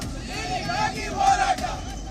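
Protesters in Karnataka clash with police during the Cauvery water dispute, a dense crowd shouting and yelling continuously with a few louder surges.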